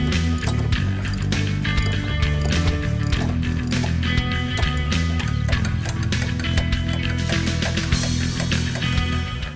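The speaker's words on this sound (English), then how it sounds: "Now we're going to tighten down the links to the brackets." Ratchet wrench tightening the BMR Watts link bolts to their brackets on a 2005-2014 Mustang coupe, a steady run of close, loud metallic clicks mixed with clanking mechanical noise throughout.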